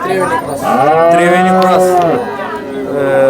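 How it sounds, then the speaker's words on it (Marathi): A Triveni crossbreed cow at a cattle market in Sangola lets out one long, loud, close moo that rises and falls in pitch, followed by a shorter low call. "त्रिवेणी क्रॉस ब्रीडची गाय आहे मित्रांनो"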